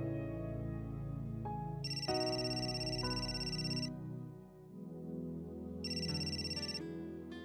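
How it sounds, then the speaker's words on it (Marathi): Phone ringback tone on an outgoing call, a steady repeating electronic ring with two bright bursts over soft background music, no talking. "आदित्यला फोन करते, म्हणजे मूड चांगला होईल माझा."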